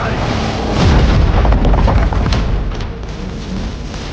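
Bombs and artillery explode in a Warhammer 40K game, a loud, continuous rumbling roar of blasts with scattered sharp bursts as voices speak over the battle.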